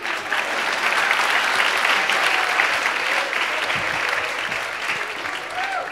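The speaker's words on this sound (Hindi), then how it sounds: "जोरदार तालियां मेरे लिए" Audience at a Hindi stage drama applauding loudly, a thick, sustained wash of many clapping hands that holds steady for several seconds with faint voices mixed underneath.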